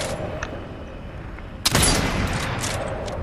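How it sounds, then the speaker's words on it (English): Gunfire in a shooter video game, a sudden burst of shots erupting midway into a sustained roar of fire, after a quieter stretch with a few distant pops. "They're shooting over by me."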